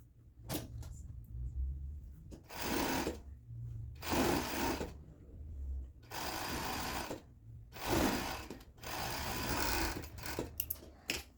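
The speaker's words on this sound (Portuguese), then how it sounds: "Por enquanto é só nessas 3 partes que vocês vão passar o overlock." An overlock sewing machine stitches dress fabric in several loud, close bursts of fast whirring, each a second or two long, separated by short quiet pauses, with no talk.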